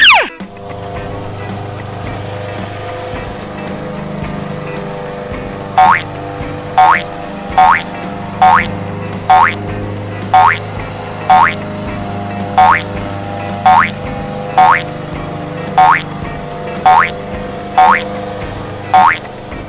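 A children's toy lawn mower, once switched on, plays a steady looping toy sound: springy, boing-like pulses repeat about once per second, loud and close, over a low hum.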